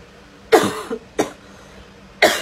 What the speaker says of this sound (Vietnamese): Trời ơi, ho quá là ho rồi nè.